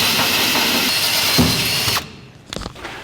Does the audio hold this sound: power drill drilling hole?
yes